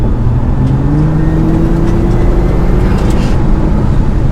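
A Nissan GT-R R35 accelerates hard, its engine note rising through quick gear shifts, loud and continuous from inside the car with no voices.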